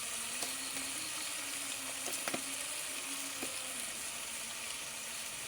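Fungus fish and eggplant fry in a pan with a quiet, continuous sizzle, broken by a few brief louder crackles and stirring clicks.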